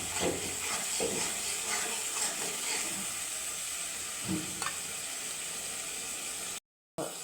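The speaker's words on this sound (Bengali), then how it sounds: "এখন আমি দিয়ে দেবো কড়াইশুটি বা মটরশুটি যে যাই বলে" Green peas sizzle and hiss in a hot pan of spices, a steady frying crackle with a few stirring knocks, cutting briefly to silence near the end.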